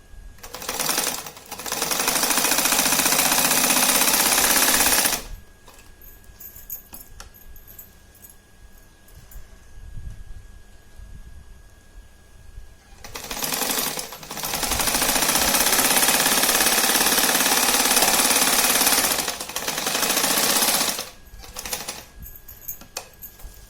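A sewing machine stitches a fabric pouch in two long, steady, loud bursts of rapid mechanical chatter, separated by a quieter pause with faint handling noise.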